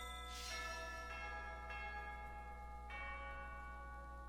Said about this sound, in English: That bell sounds like the opening theme to the main theme of the series